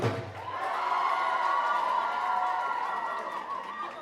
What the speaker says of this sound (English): They're cheering so much louder.